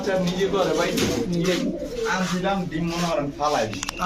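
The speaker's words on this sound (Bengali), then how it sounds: "দেখেন কত বড় সাইজের কবুতর" Large pigeons kept in a pigeon market or loft coo steadily, with repeated low throaty calls close by, mixed with people talking over them throughout.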